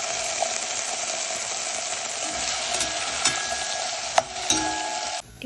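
Raw plantain pieces for a vegetarian kara kari fry in hot oil in a pan, a steady loud sizzle throughout with occasional scrapes and clinks of the stirring spoon, no talk.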